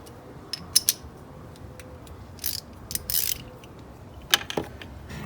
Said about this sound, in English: grab your ratchet and extension.